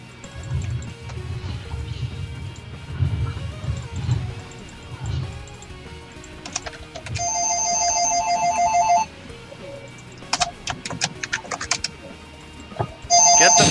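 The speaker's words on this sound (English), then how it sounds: "Get the phone!" Electronic telephone ringtone bursts in repeated bright trilling pulses, loud and close, over a low hum with keyboard typing, during a voice-chat session while playing League of Legends.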